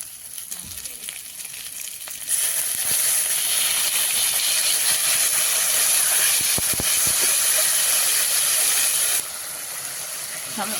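Loud steady sizzle and hiss as a little water hits fried potatoes and spices in a hot pan, starting suddenly and running for about seven seconds before dropping back to a quieter background with faint talk.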